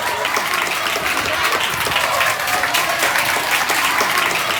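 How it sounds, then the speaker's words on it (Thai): Audience at a Thai children's singing audition show applauds a young contestant called to the front, a dense, steady wash of clapping that holds at full strength for the whole stretch. "ปรบมือ้กับน้องปันด้วยครับ"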